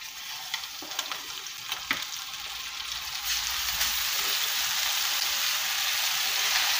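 Fish frying in oil in a pan, a continuous hissing sizzle that swells and thickens after a few seconds, with a few scattered pops and taps early on.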